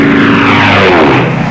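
A North American T-6 trainer airplane passes very loud and close, its propeller engine a deep throbbing roar whose pitch sweeps downward as it goes by.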